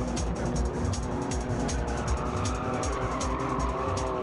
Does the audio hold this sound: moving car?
yes